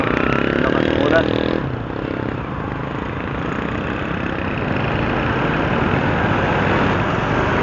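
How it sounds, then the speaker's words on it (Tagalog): Motorcycles rumble through road traffic in a steady, moderately loud engine drone with idling and passing machines blending together, and a brighter burst of noise fades out early on. "Nakabulan ng mga motor dito."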